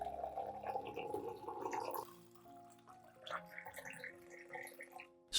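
Warm water pours from a vessel onto a spoonful of turmeric powder, about half a litre in all, giving a soft, faint, steady trickle and splash close by with no talking.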